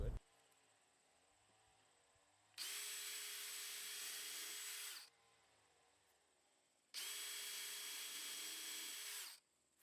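A power drill whirs in two sustained bursts of about two and a half seconds each while assembling a pallet wood dog gate, separated by quieter pauses with faint background noise.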